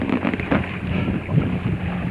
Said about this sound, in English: I'm just going to come out and get a couple of hours sailing in